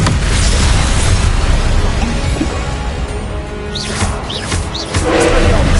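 Spell effects in the video game Hogwarts Legacy, the Levioso cast as a dense rumbling whoosh with booming impacts, a few rising chirps near the end, and the level swelling again at the close.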